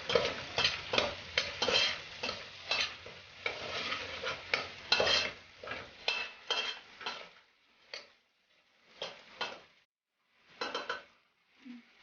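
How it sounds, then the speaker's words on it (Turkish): A spoon scrapes and clatters through chicken sauté in a pan with black pepper and red paprika, quick irregular stirring strokes over a faint sizzle, dense at first, then thinning to a few isolated scrapes, no talking. "Karabiberini ve kırmızı toz biberi ekleyip karıştırıyoruz"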